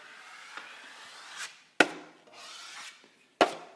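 A drywall knife presses and scrapes along a bullnose corner bead flange. The result is a soft rubbing drag followed by a sharp tap, and the pattern repeats twice, close and clear.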